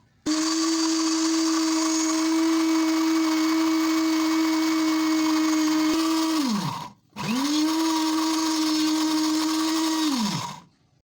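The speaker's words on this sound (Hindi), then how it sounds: "ये देखिए मैं इसको अच्छा सा ब्लेंडर में ब्लेंड कर रही हूँ" A blender grinding boiled chickpeas with water into a paste runs with a loud, steady high-pitched whir, winds down briefly, then starts again for a second burst before spinning to a stop.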